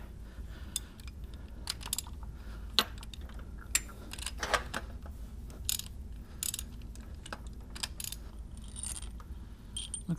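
A wrench works on the cylinder head bolts of a 1997-2001 Toyota Camry 5S-FE engine, loosening them with scattered ratcheting clicks and sharp metallic knocks in a quiet garage.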